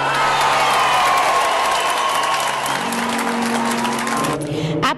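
Students applaud and cheer in the courtyard of a classical high school in Salerno at its reopening, loud continuous clapping with whoops and scattered voices, and a sustained tone running beneath that cuts off abruptly at the end.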